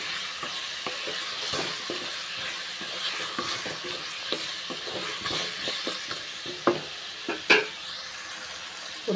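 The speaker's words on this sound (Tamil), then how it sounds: "அந்த எண்ணெயிலே அந்த கத்திரிக்காயும் உருளைக்கிழங்கும் நல்லா வதக்கிக்கலாம்." Eggplant and potato sautéing in oil in a pan, with a steady sizzle and hiss throughout, punctuated by scraping stirs and clanks of a utensil against the pan, loudest near the end.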